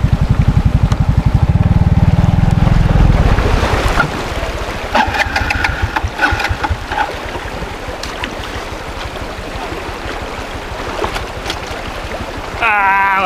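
A motorcycle engine sputters and labors after stalling in river water, with a rough, loud pulsing rumble that falters and dies away after a few seconds, followed by flowing water and scattered knocks outdoors.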